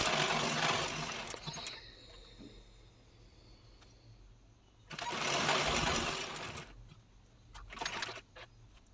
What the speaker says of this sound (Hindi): देखिएगा मैं डबल सिलाई लगा रही हूँ।